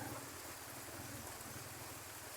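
Heavy rain pouring down during a sudden downpour, a dense, steady hiss of falling water with a low rumbling undertone, constant and fairly faint throughout.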